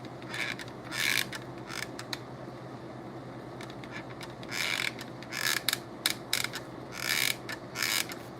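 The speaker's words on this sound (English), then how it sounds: "Probably need another clamp on that" A woodworking clamp is tightened with a ratchet mechanism, giving short bursts of rapid clicking that come in separate spurts, fairly close, over a quiet room hum.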